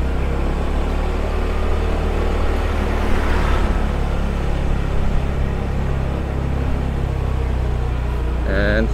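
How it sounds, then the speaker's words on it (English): Steady rumble of cars passing along a one-way street in Jimbaran, Bali, after days of on-and-off rain, a continuous close traffic drone with a brief swell of a passing vehicle midway and a voice at the very end. "I don't know why so many cars coming"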